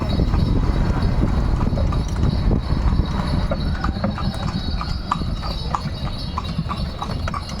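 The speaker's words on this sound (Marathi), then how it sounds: "टांगेची सवारी सुरू आहे" Horse-drawn tanga ride in Pandharpur, the horse's hooves clip-clopping in a steady trotting rhythm close by over the rumble of the cart's wheels.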